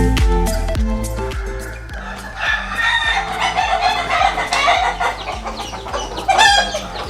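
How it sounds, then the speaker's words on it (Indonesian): Ayam ketawa, the Indonesian laughing chicken breed, crowing and clucking nearby at a bird keeper's place, with repeated loud rolling laugh-like crows and sharp clucks over a busy mix of other farm-bird calls. "ini kita sudah disambut ayam ketawanya Pak Nono"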